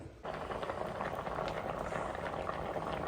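Tapioca boiling in water in a pot, a steady close bubbling and rolling simmer that continues evenly for a few seconds with no talk over it.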